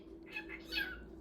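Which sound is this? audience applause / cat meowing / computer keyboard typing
cat meowing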